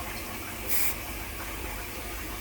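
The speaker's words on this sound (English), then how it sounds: "I've got some spray oxide" A single short hiss from an aerosol can of spray oxide, under a second long, over a steady low background hum.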